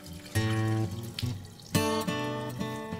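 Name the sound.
emptying sanitizer solution from beer bottles into sink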